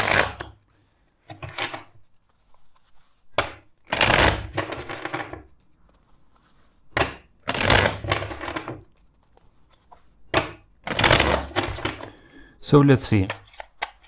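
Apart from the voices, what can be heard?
tarot deck shuffling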